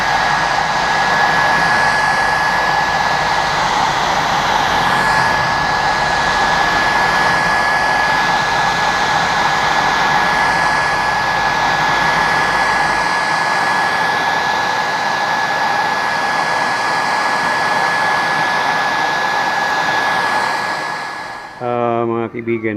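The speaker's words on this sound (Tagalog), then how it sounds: "Ito mga kaibigan, gagamitan ko ng blower para madali." A heat blower runs loud and continuous with a steady whine, used to strip decal stickers off a Yamaha Mio Gravis scooter, then cuts off near the end.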